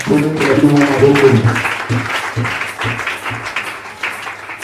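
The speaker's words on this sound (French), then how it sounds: "Acclamez pour vous-même." A Sunday church congregation applauds at a service, steady clapping from many hands filling the room, with a voice and musical tones underneath at the start.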